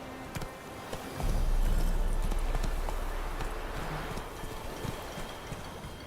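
Roach, the horse in The Witcher 3, gallops with rhythmic hoofbeats under a low rush of wind and movement, fairly close.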